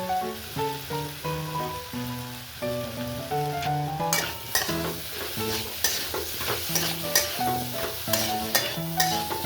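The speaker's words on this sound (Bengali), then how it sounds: "আবারও এটাকে ভালোভাবে কষিয়ে নেব" Masala fried with a spoonful of chana masala sizzles steadily while a spoon stirs and scrapes the pan in short strokes, heard over a melodic background music track.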